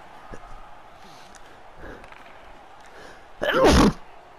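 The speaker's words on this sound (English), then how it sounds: "No, that was not the right time to sneeze" A single sharp sneeze bursts out near the end, loud and close, over a steady background of hockey game sound during NHL 20 play.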